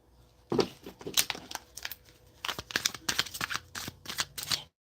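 Tarot cards being handled and laid out, a scatter of soft papery flicks, slaps and shuffling rustles in irregular bursts, close and fairly quiet with no voices.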